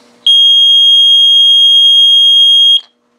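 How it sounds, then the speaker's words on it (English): A boat's bilge alarm buzzer sounds as a single loud, steady electronic tone lasting about two and a half seconds, then cuts off sharply. "a nice loud buzzer to wake you out of a dead sleep"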